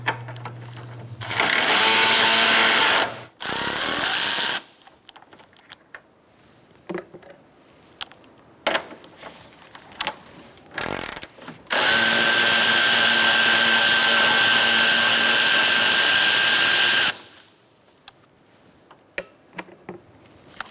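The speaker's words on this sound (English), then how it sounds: "Using a 10mm socket, we're going to take out these 2 bolts." A power tool fitted with a 10mm socket spins out two bolts while a 2014-2019 Kia Soul grille is removed, with several loud whirring bursts, the longest running about five seconds, separated by quiet clicks and handling noises.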